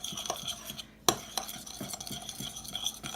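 A crumble mixture is stirred in a bowl with a utensil, giving close, soft scraping and rhythmic clinks with one sharper knock partway through. No one talks.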